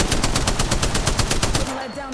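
Sustained automatic gunfire in a shooter video game, a loud, steady rapid stream of shots that cuts off near the end.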